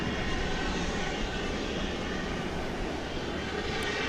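At DFW Airport, an MD-11 jet airliner on flight 765 to Louisville pushes back, its engines producing a broad, steady rumbling roar that holds constant and fairly loud throughout, with no speech.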